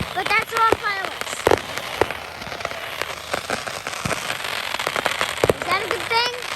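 Fourth of July fireworks, scattered sharp pops and crackles at middle distance over outdoor ambience, with people talking throughout.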